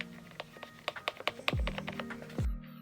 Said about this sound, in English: It's a Crayola keyboard. It was made for kids. These buttons are huge.